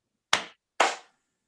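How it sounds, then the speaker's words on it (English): Two sharp, loud group claps about half a second apart at a virtual Rotary club meeting, each a single crisp burst with a short decay and silence around them. "Let's do the one clap welcome. So on the count of three, 1, 2, 3."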